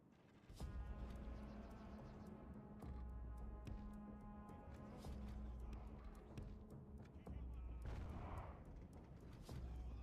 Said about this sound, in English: Alright, catapults, need you to stop firing.